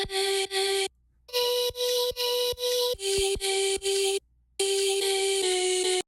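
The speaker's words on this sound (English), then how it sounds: "let's say I wanted to tuck in a vocal sound like this" Chopped vocal sample in a future bass track: short, bright pitched syllables in a stuttering rhythm that shifts pitch. Two brief silent gaps break the pattern.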